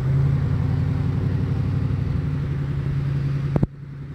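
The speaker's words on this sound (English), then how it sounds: "You can hear the cars behind me." Cars pass along a road behind an old church at Cades Cove, a steady low traffic rumble that holds for several seconds and then cuts off abruptly after a brief knock.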